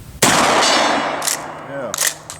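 A Remington 870 12 gauge shotgun fires once outdoors near woods: a sudden loud blast whose ringing echo trails off over about two seconds, followed by a couple of faint clicks.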